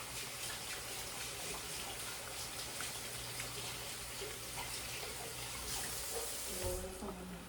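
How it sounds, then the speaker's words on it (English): Tap water runs steadily while hands are washed at a home kitchen sink during cooking, a continuous close hiss with a brief splash change near the end. "wash my hands"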